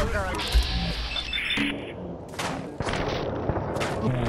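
Overseer's Guardian gun firing in Fallout 4, a few sharp in-game shots punching through a dense, busy game soundscape with music and effects, heard close and fairly loud.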